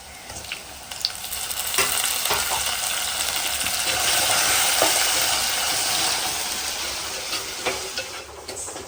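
Onion and tomato sauté in a pan on a four-burner stove, a continuous close sizzle with occasional spatula clicks and scrapes as they are stirred, steady in loudness throughout.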